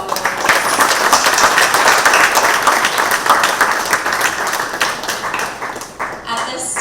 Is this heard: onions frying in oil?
no